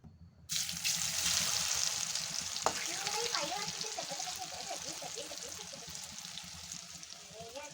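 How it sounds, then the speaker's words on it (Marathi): Crunchy alu vadi pieces fry in hot oil with a sudden loud sizzle that settles into a steady, close bubbling crackle, with no talk. "तुम्हाला त्याचा आवाज दाखवते मी कसा येतो हे पहा असं तळायचं काम चाललंय"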